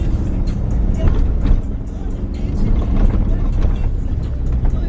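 Ford Raptor driving off road through sand in four-wheel drive, a loud continuous engine drone with rumbling tyres and surging throttle, heard from inside the truck, with faint bits of talk.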